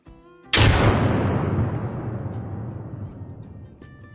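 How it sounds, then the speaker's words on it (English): A single loud rifle shot fired at a mule deer buck in a hunting video game, a sharp crack after a brief quiet moment, followed by a long rolling echo that slowly fades. "That is a good shot on that monster mule buck."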